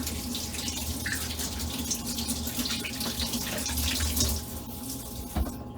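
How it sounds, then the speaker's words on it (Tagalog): Tap water runs steadily into a kitchen sink as hands are washed under it. The flow is close and continuous, with a few soft splashes and drips and no voices. "Maghugas muna ako ng kamay."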